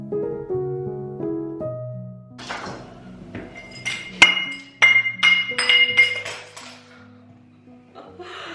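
A glass Christmas ornament bounces and then smashes, a series of sharp bright clinks and shattering hits clustered in the middle, loud and close after a soft tonal opening.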